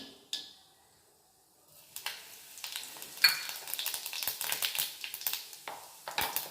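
Cumin seeds sizzle in hot oil right after mustard seeds have popped, a crackling fry that begins about two seconds in and continues densely with sharp pops, close by and moderately loud, with no talking.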